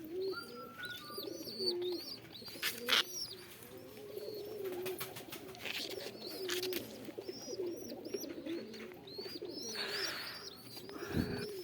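Young fancy pigeons at a pigeon farm coo in soft, repeated calls, with brief chirps and small movements scattered over a continuous low murmur of birds.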